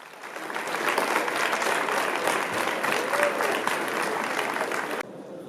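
Teachers and students at a school award ceremony give a sustained round of dense applause, fairly near, that stops abruptly near the end.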